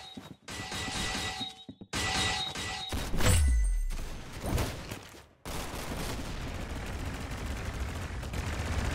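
Loud bursts of automatic gunfire and single shots in the Roblox game Arsenal, firing in several strings broken by short gaps, with a heavy thudding impact midway before steady shooting resumes.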